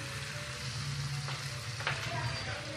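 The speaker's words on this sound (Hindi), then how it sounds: "अब हम इसमें अपने ग्रेटेड अनियन डालेंगे और साथ में टमाटो प्यूरी" Grated onion and tomato puree with mushrooms sizzle steadily in a pan, giving a constant close frying hiss with a couple of faint stirring scrapes.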